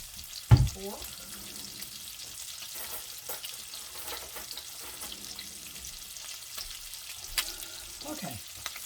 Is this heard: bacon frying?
yes